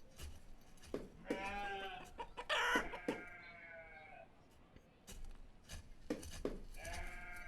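Chickens cluck in the video game Banished, with several short bursts of fowl calls and what sounds like sheep bleats coming and going over a quiet background.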